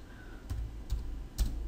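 Keys tap on a computer keyboard as a shutdown command is entered, three or four separate presses with short gaps between, fairly close and without talk.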